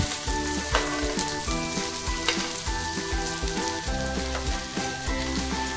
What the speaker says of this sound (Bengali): এবার আমি কড়াতে কিছুটা রসুন কুচি আর কাঁচা লঙ্কা প্রথমেই দিয়ে দিলাম। এরপরে আমি দিয়ে দিচ্ছি কেটে রাখা পেঁয়াজগুলো।